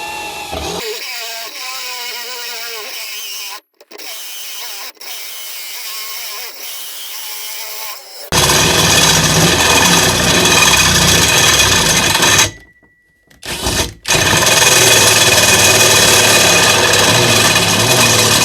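A Sturmax CDM3212BL cordless drill on second speed bores a step bit into a square steel tube with 1.8 mm walls. A high whirring motor gives way to a loud, harsh grinding that stops briefly and then resumes, all close up.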